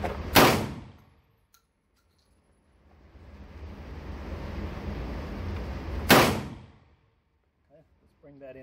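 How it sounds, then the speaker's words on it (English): Two loud, sharp slug shots from a bullpup shotgun at an outdoor range, about six seconds apart, each with a quick booming decay, with wind or rustling between them. "I'm gonna shoot at 25, two shots for each one"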